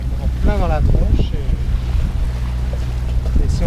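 A strong headwind buffets the microphone on a sailboat at sea between Valencia and Dénia, loud gusty rumble with water noise, while people talk over it.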